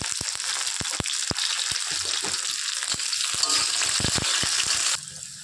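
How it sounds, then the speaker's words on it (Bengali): Onion and whole cumin frying in oil for a chicken dish, a close, steady sizzle punctuated by sharp spatula taps and scrapes against the pan, easing off abruptly near the end. "তেল দিয়ে প্রথমে আমি পেঁয়াজটা দিয়ে দিচ্ছি এই যে অল্প করে একটু গোটা জিরেও আমি দিয়ে দিচ্ছি"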